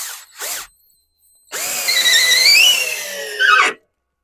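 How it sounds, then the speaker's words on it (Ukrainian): An Aurora 12 V cordless screwdriver drives a screw into wood: two brief spins, then a loud, sustained high motor whine for about two seconds that cuts off abruptly, close up. "Беремо цей, показую. Закручую в ще одне місце."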